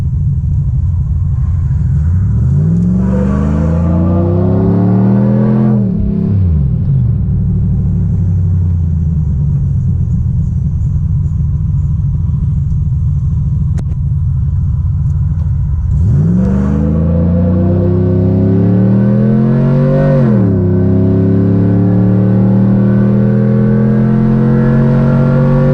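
A car engine revs hard through the gears in two separate pulls, each a loud rising roar with falling pitch at every shift, and a steady cruising rumble in between, heard from inside the car.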